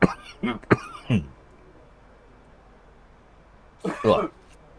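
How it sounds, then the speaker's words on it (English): A few short coughs and throat-clearing bursts close by, then a pause and another rough cough near the end. "giving us his cough"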